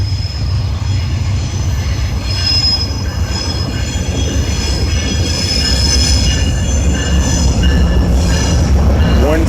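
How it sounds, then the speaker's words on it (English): Amtrak 5 pulls into Sacramento with loud, sustained wheel squeal over a heavy rolling rumble, close by and continuous throughout. "There goes Amtrak 5,"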